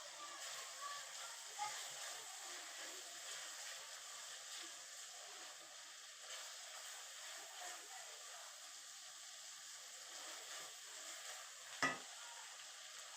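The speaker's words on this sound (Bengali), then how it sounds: "এখন এই মশলার ভিতরে আলুগুলোকে দিয়ে দেব" Potatoes cooking in hot spice masala for a chui jhal, egg and potato dish, giving a steady soft sizzle and hiss with faint stirring scrapes and one sharp knock near the end, quiet and continuous.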